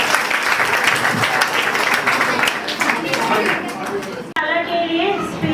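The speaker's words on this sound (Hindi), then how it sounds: "उनके लिए बहुत बहुत जोरदार तालियां।" Audience applause at a closing ceremony of a moral education camp in a Digambar Jain temple in Rohini, loud clapping mixed with chatter and voices, cut off abruptly near the end before a voice speaks.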